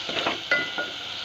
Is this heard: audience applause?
no